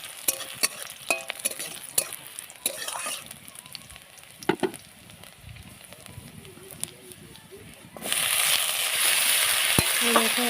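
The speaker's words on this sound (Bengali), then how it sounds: "দেখো এখন আমি ফুলকপি, আলু আর শিম কেটে রাখা সেগুলো সব দিয়ে দিলাম। দিয়ে একটু নাড়াচাড়া করবো" Cut cauliflower, potato and flat beans are stirred in a pan with mustard paste, with scattered spatula scrapes and clicks over a soft sizzle that swells into a louder, steadier frying hiss near the end.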